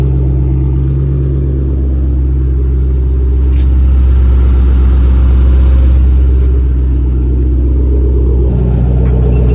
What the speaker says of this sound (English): It's more bassy than Before there was a lot of treble in the exhaust tone.